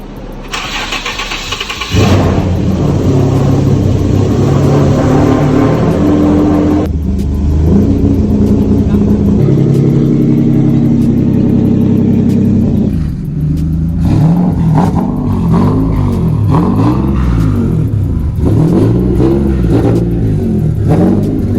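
A turbocharged Nissan 350Z Nismo cranks and fires up close and loud, settling into a rough idle and then revving repeatedly in rising and falling sweeps, with no talking.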